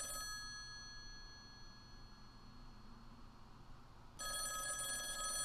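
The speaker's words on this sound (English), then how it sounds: "Aren't you gonna answer the phone? It's just that ringing is kind of annoying." A telephone rings in a quiet room, a faint steady electronic ring that runs through the whole stretch and grows louder near the end, with no one speaking.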